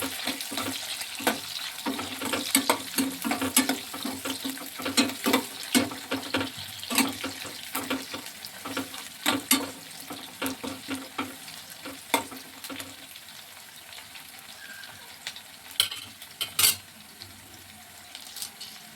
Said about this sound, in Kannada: ಈರುಳ್ಳಿ ಮತ್ತು ಬೆಳ್ಳುಳ್ಳಿನ ಎಣ್ಣೆಯಲ್ಲಿ ಚೆನ್ನಾಗಿ ಫ್ರೈ ಮಾಡಬೇಕು